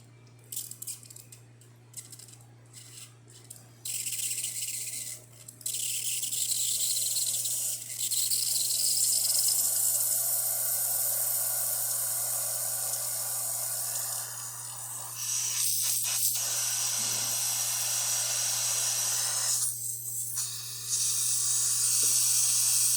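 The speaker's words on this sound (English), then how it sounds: "the steamer takes a little bit until it gets hot" The steam wand of a Breville espresso machine hisses steadily, starting thin and rising to a louder, rougher rush, over a constant low machine hum.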